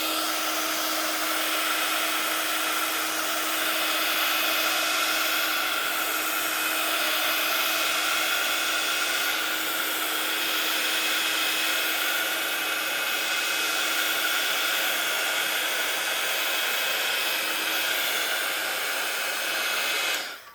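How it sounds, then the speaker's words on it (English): A heat gun blows hot air onto a craft piece, a steady loud whooshing roar with a constant motor whine that holds unbroken for about twenty seconds, with no talking. "I'm going to use heat gun. Heat it up first."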